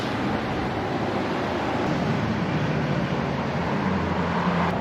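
Ocean waves surge through lava rock at a spouting horn on a rocky coast, a steady loud wash of surf and rushing water with no talk.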